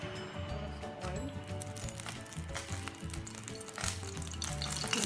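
Oil sizzles and crackles steadily in a pan as the gravy for paneer butter masala is started. The frying stays continuous at moderate loudness, with no voices.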